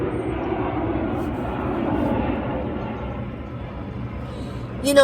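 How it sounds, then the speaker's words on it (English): A fixed-wing airplane passing overhead outdoors, a steady broad rumbling drone that holds for several seconds at moderate loudness, with a brief louder rustle at the end. "there's a plane going over"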